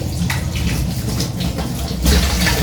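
Steady running water from a tap, a continuous splashing rush that swells a little louder near the end, with no talk over it.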